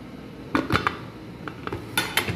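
Metal clanks and clatters as a lid is set onto a cooking pot of boiling pork leg, a few sharp knocks close by, with a low steady background hum.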